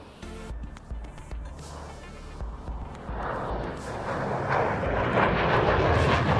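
A double delta military jet with canard foreplanes flies past, its engine noise building from a faint distant whine into a louder, broad roaring rush.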